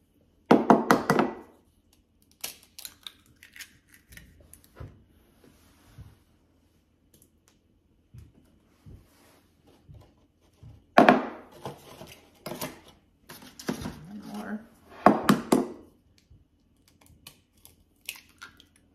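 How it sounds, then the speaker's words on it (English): Fresh farm eggs with hard shells are cracked against a bowl, giving a few sharp knocks and taps scattered among quieter handling clicks, close and fairly soft. "sometimes I feel like I have to work really hard to crack these eggs"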